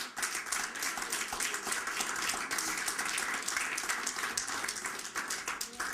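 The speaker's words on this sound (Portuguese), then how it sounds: "Você pode dar uma salva de palmas ao Senhor." A church congregation bursts into sustained applause, a dense, steady crackle of many hands clapping at once that fills the room for several seconds.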